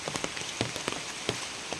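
Heavy rain falls on a flooded home in Sindurpur, a soft steady wash with distinct close drops tapping irregularly on a surface, no talking.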